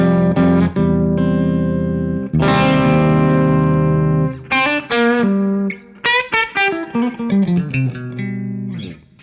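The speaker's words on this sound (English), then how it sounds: "Revv D20 without the Boomster sounds like this." A Telecaster electric guitar played through a Revv D20 amp with no Boomster boost rings out loud and clear, first in sustained chords, then in quicker picked notes and short staccato stabs, with no talking.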